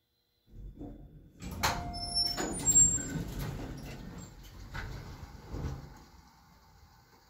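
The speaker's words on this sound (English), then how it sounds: "Sounds like a haunted door." A creaking door being opened, a drawn-out series of squeaks and groans with some rumbling and clunks, fairly close and moderately loud, with no talk.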